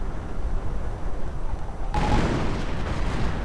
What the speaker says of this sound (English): Artillery on the Panther and the Panzer Grenadiers